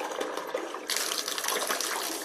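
Water rushes out of a sink as the drain plug is opened, a steady gushing flow that grows louder partway through, close by and with no talking.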